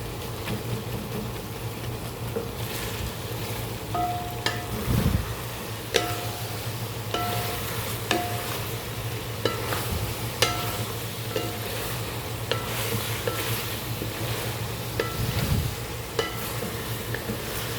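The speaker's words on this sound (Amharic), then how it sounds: "አሁን እዚህ ጋር ሽንኩርት የምበስላለች" Onions fry in a pot for rice bukhari, giving a steady close sizzle with occasional scraping and knocking clicks from stirring throughout.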